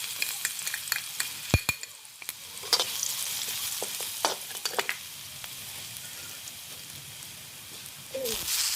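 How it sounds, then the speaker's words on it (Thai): Garlic stir-frying in hot oil in a wok over a charcoal stove, a soft continuous sizzle with sharp scrapes and clanks of a spatula stirring, close and fairly quiet, with no talk. "กระเทียมลงไปผัดค่ะ"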